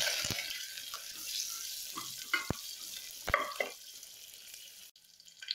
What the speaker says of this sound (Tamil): கருவேப்பிலை, எல்லாத்தையும் நல்லா வதக்கி விட்டுக்கலாம்.